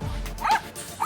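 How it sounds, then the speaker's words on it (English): A small dog giving two quick yappy barks close to the microphone over a brief second of sound. "Having a dog that is yapping and barking and basically just screaming"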